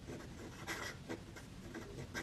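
A Falcon fountain pen nib loaded with Aurora blue ink scratches across super smooth paper in quick strokes, a faint close dry rasp rising and falling in short bursts.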